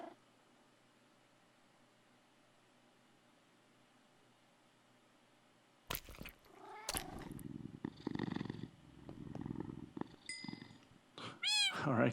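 Minecraft cats purring and meowing, heard close after several seconds of near-silence, with rustling bursts and a few higher mewing calls toward the end.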